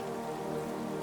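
Rain patters softly and steadily in a forest, a dense, even wash of drops with a low tonal hum beneath.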